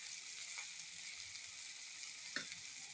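Okra (bhendi) with salt sizzles steadily as it fries in a pan, with a couple of soft scrape-and-stir sounds breaking through the constant hiss.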